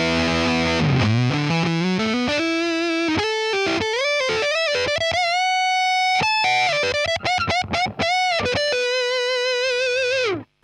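A Jackson X Series Kelly KEX electric guitar on an amp's overdrive channel plays a fluid melodic line with bends and slides, thick and saturated, sustained notes ringing loud and close.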